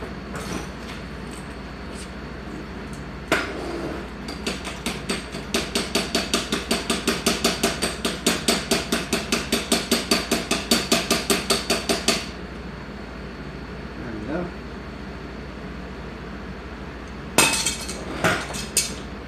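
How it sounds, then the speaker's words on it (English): A broken, stripped BMX bike lever hammered back into place with a long run of rapid, evenly spaced metallic blows, loud and close, followed by a pause and a couple of final sharp strikes. "I'm just gonna hammer this thing on."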